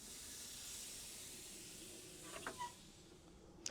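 Moroccan lamb kebabs laid directly over hot BBQ coals give a steady, quiet hiss of sizzling fat, with a couple of brief pops and crackles toward the end, heard alone without speech.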